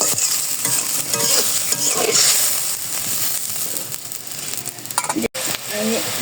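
Spice masala sautéing in a hot pan with steady frying sizzle and repeated stirring scrapes throughout, close and fairly loud, with a brief clatter near the end.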